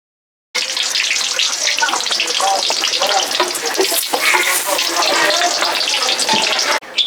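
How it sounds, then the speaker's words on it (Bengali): Potatoes deep-frying in plenty of oil for a vegetarian potato and pointed gourd curry, a loud, dense, continuous sizzle close by that starts abruptly and runs steadily, no talk. "সবগুলো আলু একেবারেই ভেজে নিচ্ছি, এখানে বেশি পরিমাণে তেল দিয়েছি"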